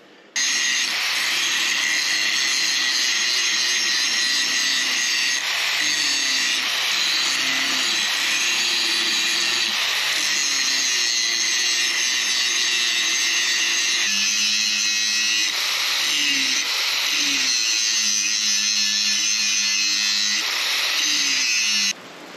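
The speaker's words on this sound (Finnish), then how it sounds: "Eli rälläkällä vähän raakasti tästä näin poikki ja tehdään siihen viiste." An angle grinder cuts through the metal of an axe being restored to form a bevel, a loud, continuous high-pitched whine with brief dips and restarts as the cut proceeds, heard alone.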